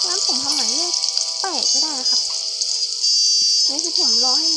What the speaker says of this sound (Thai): เราจะมาย่างเนื้อก่อนนะครับ